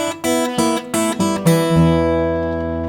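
Fingerstyle guitar picks a descending blues scale, a quick run of separate plucked notes that ends on a low note left ringing and slowly fading. The playing sounds close and clear, with no voice over it.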